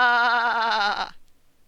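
A narrator imitates a sheep's bleat, delivering one drawn-out wavering "maa" for about a second before it stops abruptly, close and loud with no other sound.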